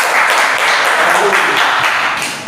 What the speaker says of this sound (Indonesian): tepuk tangan sih.